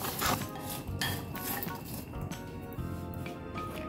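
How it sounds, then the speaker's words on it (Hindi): A spoon stirs and scrapes through dry fruit chaat drizzled with honey in a bowl, giving repeated close clinks and soft scraping knocks against the dish, with no talking. "अब डालेंगे इसमें थोड़ा शहद है ना राज की बात ये देखिए और इनको अच्छी तरह से मिक्स कर लेते हैं"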